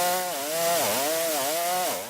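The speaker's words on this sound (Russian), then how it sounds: "На местной лесопосадке по улице Родина теперь вовсю работают бензопилой." A gasoline chainsaw cuts felled trees in a roadside forest belt, its engine whining loud and close with a wavering pitch as the revs rise and fall throughout.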